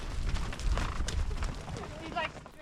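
A colorful ranch herd of mostly paint horses runs during a horse drive at Sprucedale, their hooves making a dense, rumbling patter beneath a voice as he talks.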